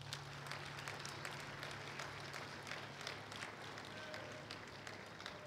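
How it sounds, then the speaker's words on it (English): A school audience gives a round of applause at a Teacher of the Year ceremony, a faint, even patter of many hands clapping from a distance over a low hum. "So give yourself a round of applause."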